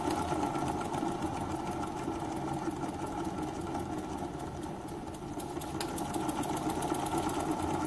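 A live steam powered wobbler model engine runs steadily with a fast, even mechanical chuffing and whir, loud and close throughout without a break.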